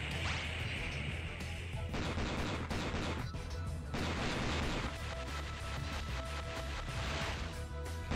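Dense, continuous gunfire and explosions from the arcade run-and-gun game Metal Slug 6, loud and busy throughout with rapid shots, crashes and blasts overlapping game music.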